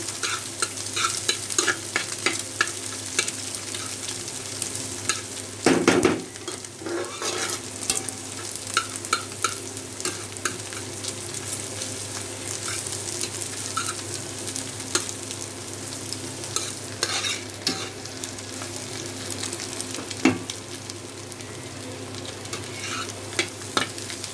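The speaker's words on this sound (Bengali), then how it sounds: "পেঁয়াজ দিয়ে দিচ্ছি এখন।" Chopped onion sizzles in hot oil for an ash gourd bhaji, with a spatula scraping and stirring the pan at irregular intervals and one louder clatter early on, under a constant frying hiss.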